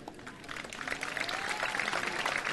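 A crowd at the Mondial de Millau pétanque tournament applauds a player, a brief burst of clapping that swells and grows louder outdoors.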